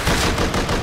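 Rapid automatic gunfire in the video game Rust, a short loud burst of close shots in quick succession, no talk.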